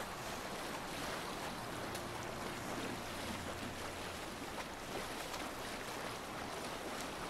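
A Viking longship in Assassin's Creed Valhalla moving across open water, with a steady broadband wash of waves and wind and a low rumble underneath, no one talking.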